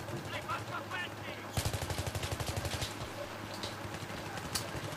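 M416 assault rifle fire in the video game Battlefield 3, a short burst of rapid evenly spaced shots over a busy game background, with a lone sharp shot near the end.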